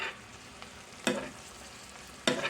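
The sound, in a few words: stirring vegetables frying in a cast iron pan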